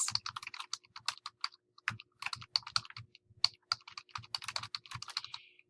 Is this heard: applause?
no